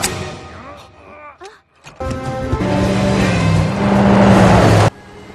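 A fancy amphibious car that can drive on water, speeding through an action-film getaway. Its engine rumbles and revs loudly, rising in strength with a few thuds and groans before cutting off abruptly.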